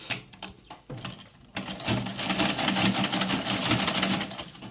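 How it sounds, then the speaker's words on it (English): A sewing machine top-stitches a side pocket. A few short stop-start stitch bursts lead into a steady close whirring run that lasts to the end. "I'm just going to top stitch"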